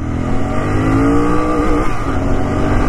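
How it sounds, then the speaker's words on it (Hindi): A Royal Enfield Continental GT 650 motorcycle launches and accelerates hard, its engine note loud, close and continuous with rising pitch and a steady roar throughout, no voices. "हम लॉन्च करने वाले हैं अपनी बाइक को"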